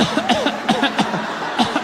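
A few short, harsh coughs come in quick bursts, close by, with a bit of chuckling mixed in.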